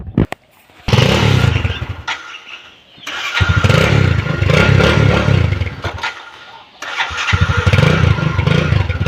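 Motorcycle engine starting outdoors, a starter crank followed by the engine catching and idling loudly, then cutting out and restarting, close with some clatter.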